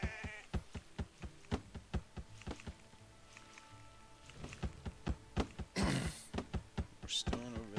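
Sheep bleat in the real-time strategy game Empires Apart as the player's Chinese side finds more of them, with a short bleat rising over a busy bed of clicks and soft game thuds, and a brief burst of noise near the end.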